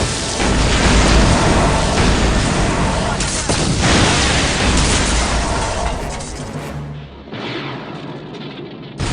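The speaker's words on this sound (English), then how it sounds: "There has been an explosion at the main behavior core." A loud, sustained explosion in the video game Star Wars KOTOR produces a heavy roaring blast with rumbling, crackling debris that gradually thins out before a brief lull near the end.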